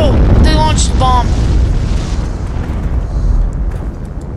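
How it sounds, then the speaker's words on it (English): A bomb blast in the multiplayer war shooter Heroes and Generals, a loud, sustained rumbling explosion that rolls on for several seconds, with a brief voice over its start. "They launched a bomb."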